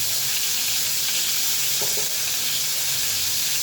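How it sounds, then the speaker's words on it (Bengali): Chicken steak pieces sizzling in a hot frying pan, a steady close hiss of oil running unbroken throughout with no talking. "এবার অপর সাইড ভেজে নিচ্ছি। এই সাইডে আমি ৩ মিনিট ভেজে নিচ্ছি।"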